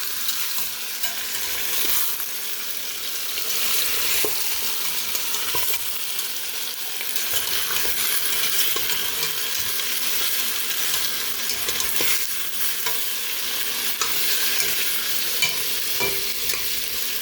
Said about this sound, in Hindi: इसमें हम ये अपना चिकन ऐड करेंगे। और इसे हम अच्छी तरह मिक्स कर लेंगे।